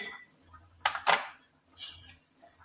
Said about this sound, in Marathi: कढई गरम झाली, त्यानंतर आपण घेतलेले शेंगदाणे टाकून घेऊ.